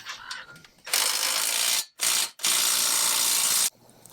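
Ratchet tightening a locking nut on a Harbor Freight Badland winch fairlead on a Jeep Cherokee XJ, loud rapid clicking bursts in two long runs separated by brief pauses, close up and without speech.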